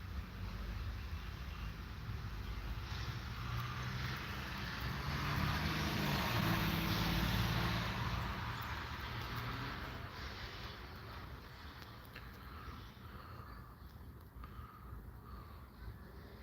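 Traffic on a congested road: a faint, steady low rumble of engines that swells as a vehicle moves past midway, then settles back to a distant drone.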